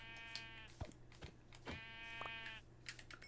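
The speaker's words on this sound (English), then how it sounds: "I'm just killing sheep because I need to make a bed." Sheep in the video game Minecraft VR bleating in a few quick, buzzy calls over a steady low hum, interspersed with sharp hit-like clicks; no talk.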